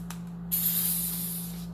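A pump oil sprayer releases cooking oil in one sharp, steady hiss that starts suddenly and continues close and alone, over a faint low hum.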